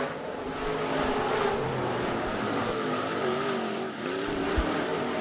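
B-Modified race cars run single file at Rapid Speedway, their engines roaring steadily and loudly throughout, with a slight dip in the sound near the end of the run.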